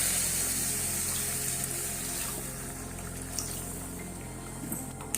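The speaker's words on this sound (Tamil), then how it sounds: "இதுக்கு அளவுக்கு கொஞ்சம் தண்ணி ஊற்றிக்கலாம்" Water poured into a pan of chicken liver pepper fry, a steady rushing and sizzling wash that gradually softens, with a few small clinks near the end.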